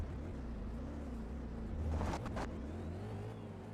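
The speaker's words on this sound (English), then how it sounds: "Who's got a noisy car? It's War Dwarf's noisy car." A noisy car engine in a racing video game drones steadily, then briefly rises and revs before settling back into a continuous hum, with no talking.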